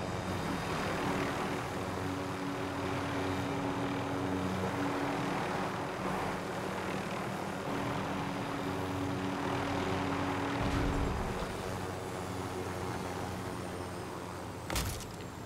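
Steady droning engine roar of a helicopter flying in Call of Duty: Modern Warfare Warzone, running continuously throughout with a sharp burst near the end.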